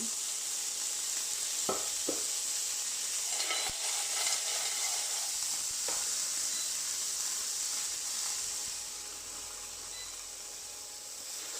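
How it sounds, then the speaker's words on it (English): Seafood shells cooking dry in a hot pan give a steady, close sizzle with some faint clicks and crackles, and it eases off a little near the end. No one speaks. "And now cook the shells dry."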